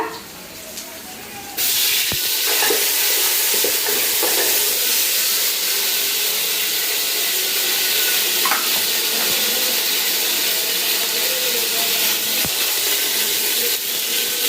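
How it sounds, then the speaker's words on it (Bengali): Onions and chicken frying in a pot, a loud, dense hissing sizzle that surges in after a short quieter start and holds steady with occasional faint clinks. "পেঁয়াজগুলো ভাজা নিলাম এদিকে বসাই দিছি মুরগির মাংস"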